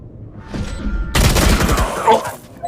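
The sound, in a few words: Phantom rifle gunfire in Valorant video game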